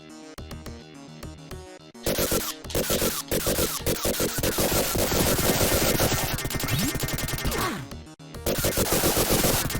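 Rapid video game gunfire from Vectorman, dense bursts of synthetic shots and blasts running almost continuously, loud and close, with a short pause partway through and no talking.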